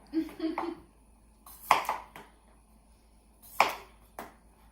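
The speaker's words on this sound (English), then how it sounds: "I'm just cutting them in little large dices, just to make them a little smaller" A knife cuts red potatoes into large dice on a board, giving two sharp, close knocks against the surface, with a voice talking before them.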